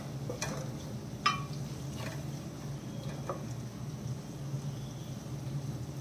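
Fish curry gravy (chepala pulusu) is stirred and mashed in a pan over a low simmering hiss, with a few soft scrapes and taps of the spoon spaced through the quiet, steady bubbling.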